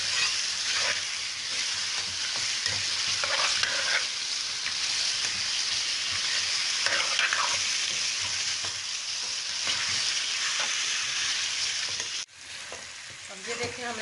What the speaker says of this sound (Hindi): अब ये देखिए हमने 5 से 10 मिनट इस गोश्त को भूना है प्याजों में